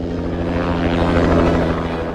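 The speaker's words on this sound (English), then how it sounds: "From New York, we were transported by private helicopter to the Pearson estate in Maine." A private helicopter flies as a radio drama sound effect, its rotor making a steady, loud, continuous thumping drone throughout.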